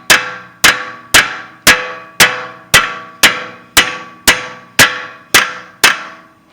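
Hammer blows on a steel punch driving a BMW 328i CV axle, eleven sharp metallic strikes in a steady rhythm about every half second, each ringing out briefly, close and loud with no talk.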